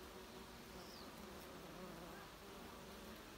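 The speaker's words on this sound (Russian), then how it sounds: "а вон пчела. Это точно пчелка." A bee buzzing outdoors near a bush, a faint, steady hum over broad background noise with no speech.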